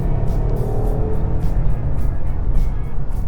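A deep, steady exhaust drone from a Porsche Turbo engine, loud and close, with a continuous low rumble and no one talking.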